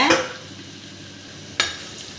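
Dried and green chilies with crushed ginger and garlic sautéing in a pan for a squid (kanava fish) tawa fry, a soft steady sizzle with a brief stir scrape at the start and another clatter near the end.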